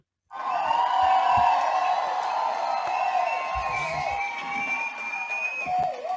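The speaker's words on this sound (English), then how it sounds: "Can't do it without the cheer." A crowd cheering and whooping for a guest at a speaking summit, loud and sustained right from the start, with shouting voices riding over the roar.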